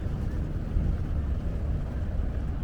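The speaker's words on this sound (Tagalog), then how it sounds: "I think that's a ferry right there." A ferry in Hong Kong harbour rumbles steadily with a low engine drone and water wash, mixed with wind noise across the whole stretch and no clear voices.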